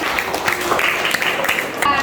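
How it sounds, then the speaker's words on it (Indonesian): A class of students claps briefly in a classroom lesson, with scattered hand claps mixed under voices. "Oke, tepuk tangan untuk Asril."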